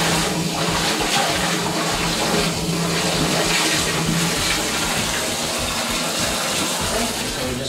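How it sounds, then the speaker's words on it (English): A bath filling with tepid water mixed with washing-up liquid, a loud, steady gushing rush from the tap into the tub that carries on unbroken from start to finish. "the bath is absolutely up to the brim"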